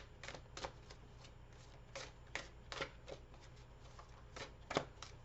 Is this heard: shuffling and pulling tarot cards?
yes